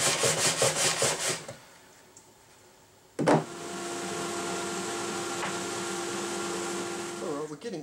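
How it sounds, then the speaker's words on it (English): Sanding a wooden Les Paul Junior style guitar body: rhythmic rubbing strokes give way to a quiet pause, then a power sander kicks in with a sharp start and runs as a steady, close whirring grind until it winds down. "So that's after 20 odd seconds of sanding."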